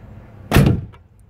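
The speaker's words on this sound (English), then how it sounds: "Now, the door will open all the way." A single short, hard thud as a Ford F-series SuperCab truck's rear door swings open and hits its stop, followed by a faint rattle.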